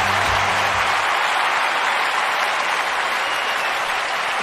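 Crowd applause in an Olympic Games athletics video game, a steady dense wash of clapping that fills the whole stretch at even loudness after a brief low rumble at the start.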